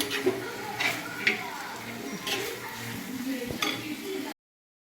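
Ivy gourd stir-fry being stirred in a pan, soft sizzling under scattered scrapes and taps of a spoon against the pan, close and moderate in level, ending abruptly in silence.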